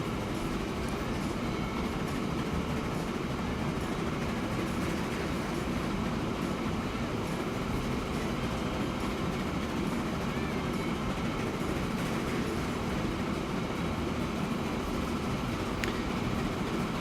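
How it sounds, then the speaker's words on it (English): Mogul steam locomotive rolling along in the railway game Transport Fever, a steady, continuous rumble of wheels and carriages that holds at an even loudness throughout, with no voices over it. "The Mogul may be a cool locomotive, but it has its limitations anyway."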